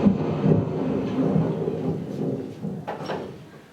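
Rumbling thunder from a terrible storm rolls in a low, sustained swell for an audio drama, loud at first and gradually fading.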